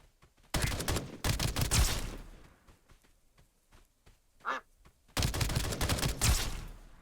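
Automatic gunfire from an AKS-74U rifle in the video game Escape From Duckov: three dense, loud bursts of rapid shots, with quieter scattered shots between them.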